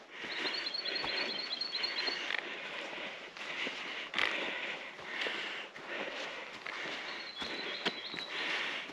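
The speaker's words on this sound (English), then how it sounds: "A few birds around you can probably hear." Small birds chirp in short repeated high calls through Tararua Forest Park bush on a hillside track, moderately close, with footsteps and rustling underneath.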